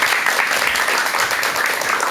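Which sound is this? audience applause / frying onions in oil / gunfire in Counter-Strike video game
audience applause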